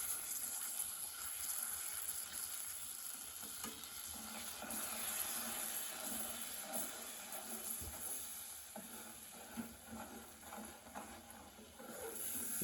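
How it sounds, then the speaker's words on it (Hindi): Water poured into thin batter during cooking, a steady hissing, sizzling wash with soft stirring sounds throughout, fairly quiet and continuous without speech. "अभी हम थोड़ा पानी डाल देते हैं।"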